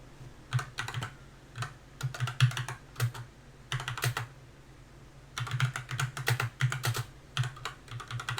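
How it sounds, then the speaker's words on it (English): Fingers clatter on a computer keyboard in bursts of rapid keystrokes separated by short pauses, close and clear over a low steady hum, with no talking. "I'm just typing in the extra stuff right in there."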